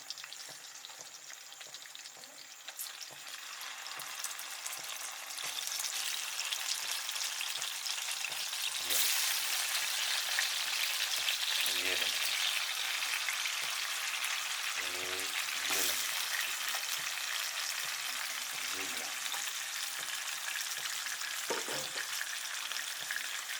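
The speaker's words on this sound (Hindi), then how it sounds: "ये देखें जनाब ये हमारे रेशमी कबाब फ्राई हो रहे हैं" Chicken reshmi kebabs frying in Dalda cooking oil, a dense, steady sizzle that swells after a few seconds, with occasional soft stirring or turning knocks.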